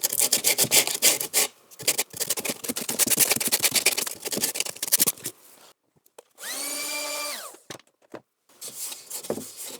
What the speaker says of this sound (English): first I'm going to try to sand that down a little bit just to help, so it's not trying to glue to dirt, sawdust